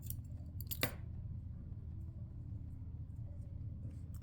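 A single quick snip of scissors cutting knitting yarn for a small knitted pumpkin, heard once near the start over a low, steady rumbling background.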